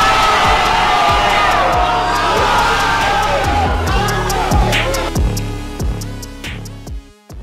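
A rap battle crowd at a Next Level Battle League event cheers and whoops loudly over a thumping beat, the roar fading gradually as the rhythmic bass continues.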